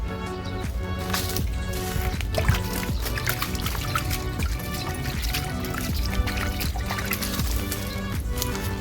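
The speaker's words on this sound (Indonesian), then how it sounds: "kita lakukan penyiraman dulu teman-teman" Water splashes and trickles steadily onto a bonsai serut plant in a pot, close and continuous with small irregular bursts, under faint background noise.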